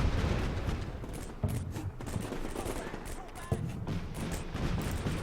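Combat Mission Shock Force 2 battle with bursts of rifle and machine-gun fire and occasional sharp impacts, moderately distant and layered under someone talking.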